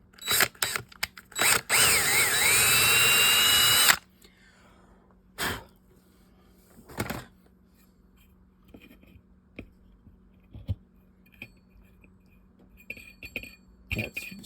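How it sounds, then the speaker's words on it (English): A power drill spins up to drive a bent reel spool shaft from a Sears trolling reel into a hole drilled in a piece of walnut, one loud sustained whine for a few seconds, followed by scattered clicks and handling knocks. "take and drill a hole into this piece of walnut and mount this in the drill and see if driving this down into it"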